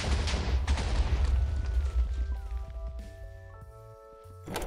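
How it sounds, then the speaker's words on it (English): A TNT blast in modded Minecraft gives a loud, rumbling boom at the start that rolls and fades, followed by quieter tonal game sounds before another swell at the end. "This mod adds new visuals for TNT exploding."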